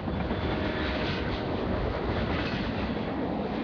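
A CSX freight train rumbles steadily past, a continuous broadband roar with faint rhythmic wheel clatter, loud and close throughout.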